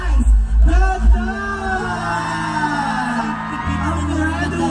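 At a Christmas parade of stars, a crowd whoops and yells for a host in loud bursts at the start, then the cheering fades under sustained music and a voice.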